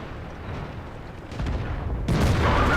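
A 130mm tank gun, the IS-7's Tier 10 weapon mounted on an SU-100Y, fires in World of Tanks, a loud booming blast that breaks over a steady battle rumble.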